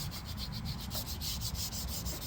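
Fine 1500-grit sandpaper rubbing over the painted body shell of a Tamiya Lunchbox RC truck, a steady, close scratchy hiss with quick back-and-forth strokes and no talk.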